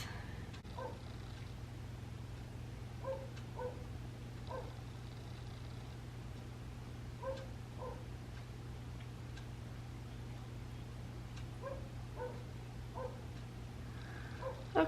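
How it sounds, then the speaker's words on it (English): A dog yips and whimpers in short, repeated bursts somewhere in the room, fairly faint over a steady low hum, with pauses between the clusters of sound. "Can that dog like please relax?"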